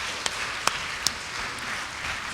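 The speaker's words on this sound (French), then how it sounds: "On vous applaudit" A conference audience at a health talk gives brief, fairly soft applause, a diffuse patter of clapping in a hall with a few sharper individual claps standing out.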